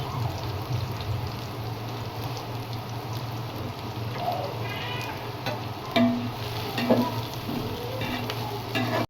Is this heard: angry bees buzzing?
no